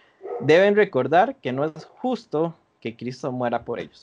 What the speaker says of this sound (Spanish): perdón por mis perros que están sonando al fondo